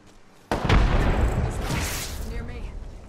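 Frag grenade detonation in the video game Apex Legends: a sudden loud blast that rolls into a sustained rumbling, crackling tail lasting a few seconds, close and dominant over game noise.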